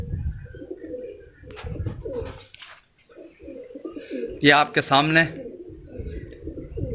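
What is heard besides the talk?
pigeons cooing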